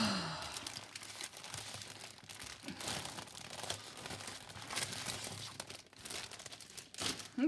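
Papers from a March 2018 Citrus Twist subscription box rustle and crinkle as they are unpacked and handled, a soft, steady near shuffle of paper with scattered sharper crackles and no talking.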